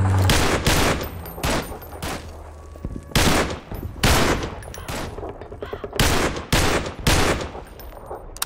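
Gunfire in a Garry's Mod WW2 team deathmatch game: loud, repeated bursts and single shots crack in an irregular rhythm all the way through, with no talk.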